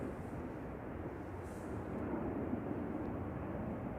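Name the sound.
Boeing 787 departing Manchester Airport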